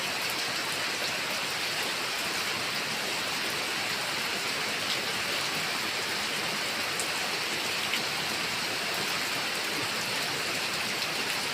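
Steady, dense rainfall hisses continuously on surfaces nearby, an even wash of drops with no voices.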